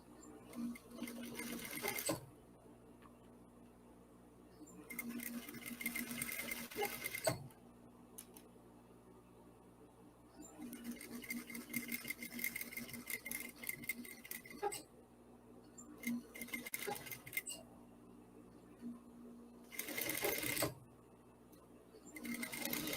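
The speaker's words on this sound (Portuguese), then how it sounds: "aqui eu vou unir, costurando aqui, 1 centímetro aqui de costura" A sewing machine stitches a 1 cm fabric seam in several close, rapid runs separated by short pauses.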